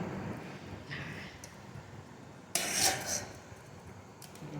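Food is served onto a plate with utensils during a home meal, producing soft scraping and a sharp clatter of metal against a dish midway, over a low background hum.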